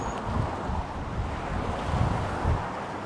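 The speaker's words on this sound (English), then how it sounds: "It's windy though, just letting you know." Strong wind rushes steadily against the microphone on the Golden Gate Bridge in San Francisco, a dense low roar with swelling gusts, no talking.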